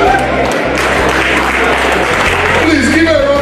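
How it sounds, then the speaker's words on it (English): Applause from the audience for a woman on stage at a celebration of life, steady and close, mixed with loud low music and some voices. "Please give her a round of applause, guys."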